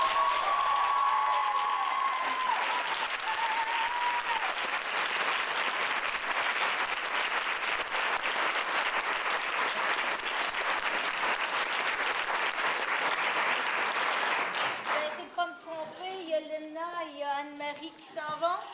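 Sustained audience applause after a school theatre play, dense steady clapping from a large crowd that runs loud for about fifteen seconds before giving way to talk.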